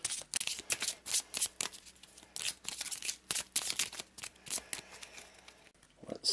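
Cards in the Secrets of the Lost Tomb board game riffled and flicked in a long run of crisp, papery slaps and ruffles, close and fairly loud with no talk.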